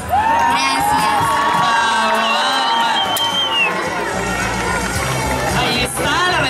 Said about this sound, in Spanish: le brindamos un muy fuerte aplauso